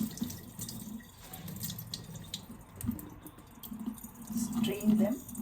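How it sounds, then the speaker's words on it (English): Tap water runs steadily over fresh coriander leaves in a sink, splashing and trickling while the leaves are rinsed free of mud, with a voice talking over it. "Wash all the coriander leaves in running water thoroughly so that there are no mud particles left in them"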